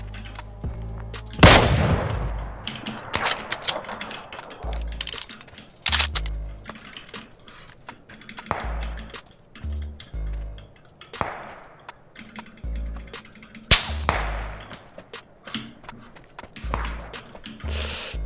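Gunfire in PLAYERUNKNOWN'S BATTLEGROUNDS (PUBG) during a match: sharp shots come singly and in short bursts, some loud and close, others fainter, with clicking and clatter between them.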